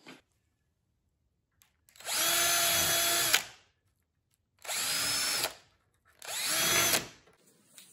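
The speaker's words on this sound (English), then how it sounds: "I'm going to take this drill, and I'm going to drill out little sections of this so that we can close the gap" A power drill bores into particle board inside a Tron arcade cabinet in three loud, close bursts, each a whining spin of a second or so, separated by short silences.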